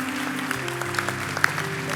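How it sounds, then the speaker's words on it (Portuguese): A church congregation gives a round of applause, scattered claps rising over a low sustained musical hum, moderately faint and without speech. "Vamos dar uma salva de palmas mais uma vez para eles."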